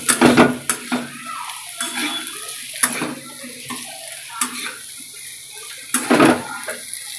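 Food is stirred and mixed in a cooking pan, with repeated scraping strokes of a spoon and sharp metallic knocks against the pan at irregular intervals, close and fairly loud.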